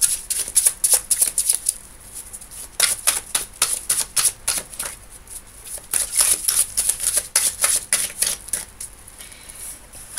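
Tarot cards are riffled and shuffled by hand in quick, crisp bursts of flicking and slapping that start and stop over ten seconds, close and fairly loud, with no talking.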